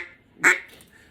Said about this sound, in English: soft, subtle quacks